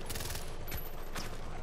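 Dense burst of rapid gunfire in a Far Cry 4 battle, a continuous rattling fusillade at moderate distance filling the whole moment without a pause.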